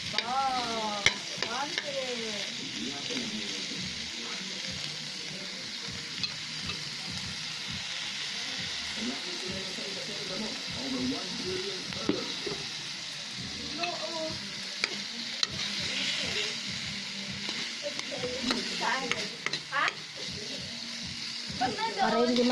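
Leftover adobo keeps sizzling in a frying pan while it is stirred, a steady frying hiss with repeated scraping and clattering strokes throughout. A person talks over it at times.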